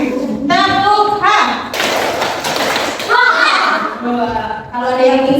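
Primary school group doing a 'tepuk H' clapping routine: children chant in a sing-song rhythm, with dense broadband bursts of group clapping and thumps between phrases, close and loud.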